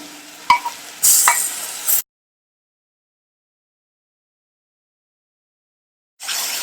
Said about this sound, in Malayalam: ഉള്ളി കുറച്ച് നന്നായിട്ട് വാടി ഒരു കളറൊക്കെ ഒന്ന് മാറി അതിൻ്റെ പച്ചച്ചുവയെല്ലാം നന്നായി മാറുന്നത് വരെ ഇങ്ങനെ ഇളക്കി കൊടുത്തുകൊണ്ടിരിക്കാം